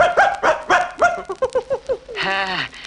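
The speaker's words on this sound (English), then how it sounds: "Every time Nipper barks, you turn the page in your storybook" A dog barks several times in quick succession, close and clear, followed by a short whining yelp at the end.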